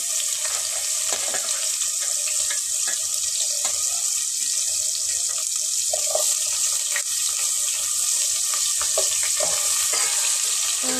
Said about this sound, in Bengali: তো তেল কই তেলটা গরম হয়ে গেছে এখন পেঁয়াজ রসুন দিয়ে দিচ্ছি